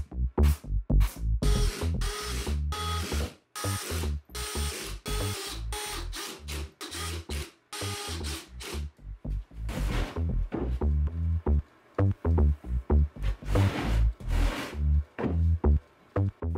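A power driver sets screws into a wooden workbench cabinet, giving a rapid run of loud, close bursts, then sparser shorter zips with pauses between them.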